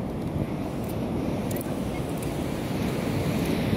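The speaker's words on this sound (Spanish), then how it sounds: "Está bien bonito ahorita el mar. El mar llega hasta aquí" Sea waves rolling onto a beach, a loud constant rushing roar mixed with wind buffeting the microphone, with no talking.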